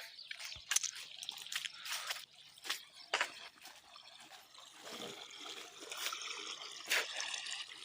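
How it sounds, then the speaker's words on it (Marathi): Irrigation water trickling and gurgling across a farm field planted with sesame and chickpea, with irregular splashy bursts rising and falling. "तर आपल्या इथं पाणी सुरू आहे"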